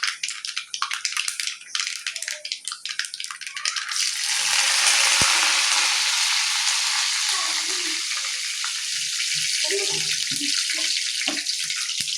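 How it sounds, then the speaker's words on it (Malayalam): Mustard seeds crackle and spatter in a hot pan for a Kerala jackfruit stir-fry, a dense steady sizzle that starts sparse with scattered pops and swells into continuous hissing, close and moderately loud. "ചട്ടി ഒന്ന് ചൂടായ ശേഷം കടുക് പൊട്ടിക്കുക"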